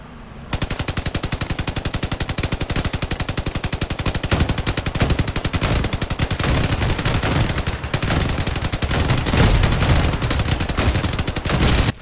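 Four piercer guns on a Crossout combat vehicle fire in alternation during a raid, a dense, steady stream of rapid loud shots lasting nearly the whole stretch with no pause.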